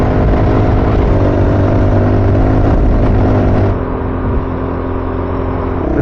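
An adventure motorcycle riding on a gravel back road, its engine droning loud and steady under continuous wind and road noise, with the tone easing slightly partway through.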